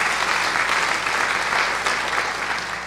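An audience at a town meeting claps in sustained applause that stays strong, then begins to fade toward the end.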